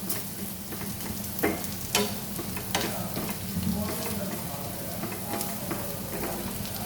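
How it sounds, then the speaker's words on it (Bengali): Onions fry in hot oil with a continuous close sizzle, broken by repeated scraping knocks of a spoon stirring them around the pan. "এই পেঁয়াজটা একটু ভালো করে ভাজলে গন্ধটা ভালো আসে"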